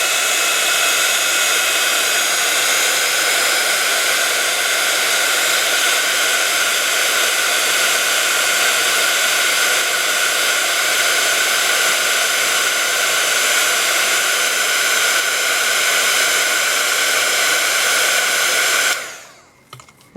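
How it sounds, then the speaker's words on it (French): A heat gun blowing hot air to dry paint, a loud, steady hissing roar held close for nearly twenty seconds before cutting off abruptly near the end. "au séchage, là je vais être obligée d'utiliser le heat gun pour vous montrer"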